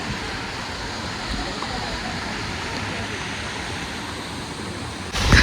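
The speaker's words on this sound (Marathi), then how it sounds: "पण मस्त वॉटरफॉल आहे, इकडे चांगला फोर्स आहे." Nangarwadi waterfall pours with strong force, making a steady, full rushing roar of falling water that holds even and constant throughout, heard from fairly close by.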